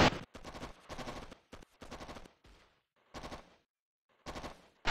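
Soldiers exchanging gunfire in Operation Flashpoint, several short bursts of loud automatic fire separated by silent gaps.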